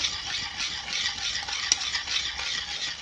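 Cake batter with a little white oil being beaten steadily in a bowl, a continuous bright scraping whisk sound with one small clink, close and alone.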